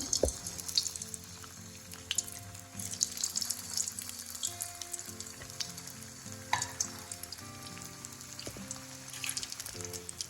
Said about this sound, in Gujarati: હવે આપણે આ જે બોલ્સ છે એને ઓઇલમાં ફ્રાય કરીશું